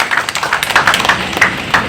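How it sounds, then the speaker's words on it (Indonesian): An audience claps at a Hanura party event in Palembang, a brisk burst of many hands applauding together, close and fairly loud, irregular taps blending into a continuous patter. "Beri tepuk tangannya."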